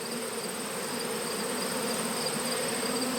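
Honeybees buzz steadily around five-frame nuc hive boxes, a dense continuous hum close by with no voices.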